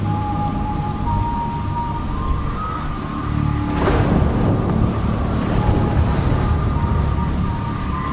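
Heavy rain pours steadily on a stormy night in the video game Jenny LeClue, with a rolling thunderclap swelling partway through over a soft sustained tonal backdrop.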